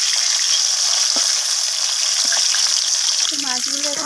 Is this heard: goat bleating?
no